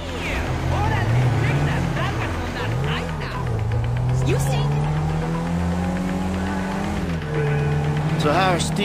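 Car engine from a video game cutscene, a steady droning hum with rising and falling revs throughout, continuous and fairly loud beneath overlapping speech and game music.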